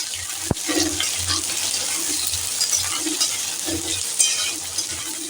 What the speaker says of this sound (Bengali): আলুটা আমি দু সেকেন্ডের মতন ভেজে নেব